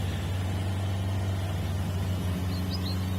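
A car engine in the video game Mist Survival hums steadily at a constant low pitch, loud and close, with faint higher whines near the end.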